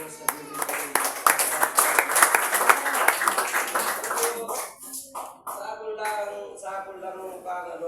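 At an evangelist's church service, the audience breaks into brisk, rhythmic clapping that swells and then thins out, giving way to a voice over the fading claps.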